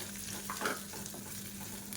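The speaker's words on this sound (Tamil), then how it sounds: "இப்போ மீடியமான ஃப்ளேமில் இதை வறுத்துக்கலாம்." Grated coconut frying in hot ghee over a medium flame, a soft continuous sizzle with occasional stirring scrapes, fairly quiet and with no talk.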